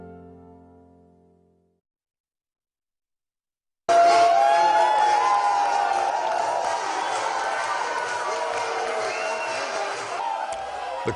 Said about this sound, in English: The crowd you see is cheering for our local war veterans who had just returned from Washington, D.C.